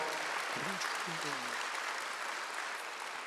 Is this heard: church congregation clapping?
yes